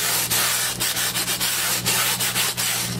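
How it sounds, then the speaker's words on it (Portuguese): Sandpaper rubs along the edges of styrofoam window molding in quick repeated strokes, a close, loud, rhythmic scratchy hiss with no talk. "Mas se ficar essa rebarba, com uma lixa, vocês vão dar"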